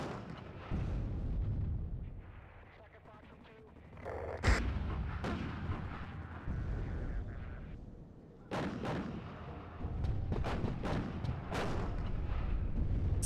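Artillery fire in the real-time strategy game WARNO booms repeatedly, with sharp blasts and rolling rumbles scattered across a dense battle soundscape of distant shots and explosions.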